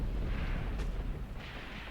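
A mortar round booms in the game Graviteam Tactics, a deep rumbling blast over constant low battlefield noise, with a second duller thud about half a second later.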